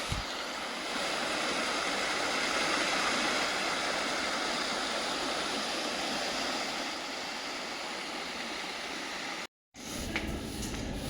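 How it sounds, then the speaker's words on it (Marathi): Geothermal hot water rushes and gurgles in a steady, broad roar close by in Rotorua, New Zealand, continuing unbroken until a brief cut near the end. "हे पाणी आणि त्यातून निघणारा वाफा वगैरे दिसत, गरम पाणी एकदम"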